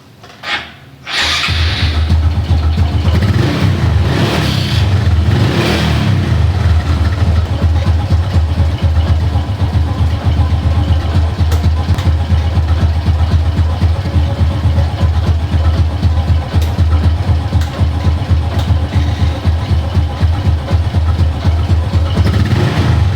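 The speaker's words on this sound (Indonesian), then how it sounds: "Kali ini aku coba nyalain mesinnya dulu ya." A Honda Supra motorcycle engine cranks and catches after about a second, then settles into a loud, steady, close idle. The idle holds for the rest of the clip with no talking.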